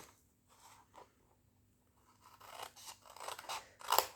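Scissors cut through paper for an Advent calendar box, beginning with a few faint snips and building to a run of close, crisp crunching cuts near the end.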